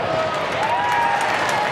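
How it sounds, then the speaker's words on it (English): A football crowd at the WAFL Grand Final between Subiaco and West Perth gives a muted, distant applause, a steady soft wash of clapping with faint cheering. "And with muted applause"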